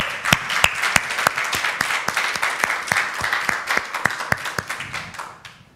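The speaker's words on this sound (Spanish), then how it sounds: "Un aplauso nuevamente." Congregation applause in a Spanish-language church service, a steady patter of many hands with distinct sharp claps standing out up close, sustained for several seconds before tapering off.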